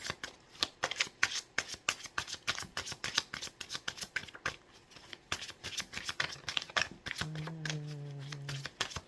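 Tarot cards shuffled by hand in a rapid, continuous run of crisp riffling flutters, close and clear, with a brief low hum near the end and no talk.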